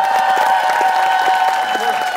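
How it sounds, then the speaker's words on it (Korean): Studio audience on a Korean TV talent show gives a welcoming round of applause: dense, steady clapping that fills the full two seconds at an even level, with a sustained tonal hum underneath. "다시 한 번 더 환영의 박수 부탁드리겠습니다."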